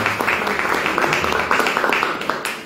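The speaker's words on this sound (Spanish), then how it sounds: "dándoles un aplauso a todos ustedes" Applause from a small audience at the close of a literature working-group meeting: steady, moderately close clapping from several people, fairly even throughout with no talk over it.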